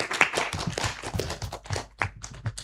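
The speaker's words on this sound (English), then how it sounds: "Please give a big applause for the negative team." Scattered clapping from an audience at a student debate competition, a few dozen hands in an uneven, thinning patter that stays fairly quiet and close, with no talk over it.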